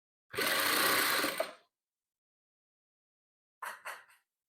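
A sewing machine stitches the third row of a patchwork quilt, first in a sustained run of about a second, then after a pause in three quick short bursts.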